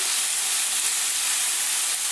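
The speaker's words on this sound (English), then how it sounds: "You can hear me over the ferocious sizzling." Steady, loud sizzling of food frying in a hot pan, a continuous bright hiss with no voices over it.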